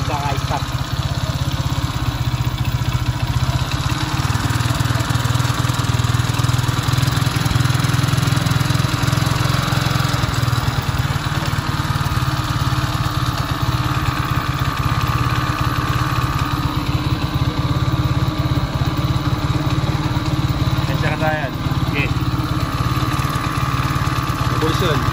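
A Euro Racing 110 motorcycle with a 4-pin CDI and regulator rectifier idles after sitting unused for a long time. The engine holds a steady, continuous rumble with a low hum throughout, close and fairly loud.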